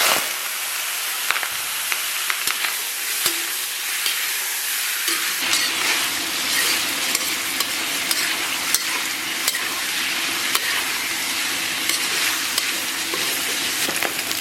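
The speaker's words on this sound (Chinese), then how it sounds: "咱们给锅里边稍微来一点点底油，咱们把五花给它下里边。" Sliced pork belly sizzling in a little oil in a wok, a steady broadband frying hiss that thickens after the meat goes in, with occasional stirring scrapes and clicks, close and continuous with no talk.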